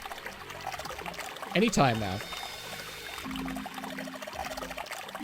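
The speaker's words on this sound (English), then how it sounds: "Hey, water is filling up." Water pours from a faucet into a basin in the puzzle game 999 (Nine Hours Nine Persons Nine Doors): a steady, moderate stream that fills in beneath a person's brief spoken line.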